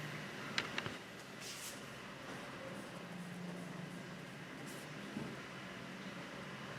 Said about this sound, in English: That's my dishwasher you can hear in the background.